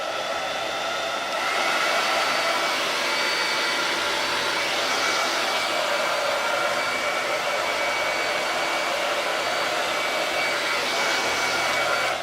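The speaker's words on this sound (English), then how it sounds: "I'm going to turn on the dryer really quick, Sean." A hair dryer switches on and runs with a loud, steady whoosh close by, its airflow hum holding constant for many seconds after a brief quieter start.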